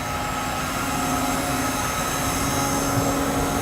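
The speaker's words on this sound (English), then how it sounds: "So move all axes up to the top." A BluePrint Automation packaging machine drives its axes upward, producing a loud, steady mechanical hum and whir with constant tones and no pauses.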